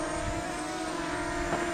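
A small camera drone hovers and flies outdoors, giving a continuous, steady propeller buzz with a fixed tone, moderately loud and without speech.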